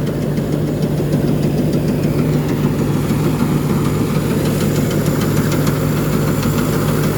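A steady, loud tractor engine idles with a continuous low rumble and a light, rapid ticking knock from the cylinder head running through it, no voices.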